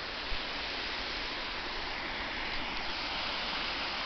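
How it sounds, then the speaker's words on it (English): Waterfall in a wooded country park, swollen after heavy rain, producing a steady, even rushing roar of falling water with no pauses, fairly close and alone. "There's the waterfall"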